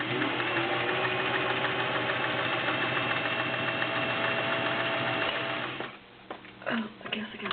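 A vintage Singer 500A Rocketeer Slant-O-Matic sewing machine runs a zigzag stitch in a fast, steady mechanical whir, loud and close, for about six seconds before stopping, leaving a few faint handling clicks.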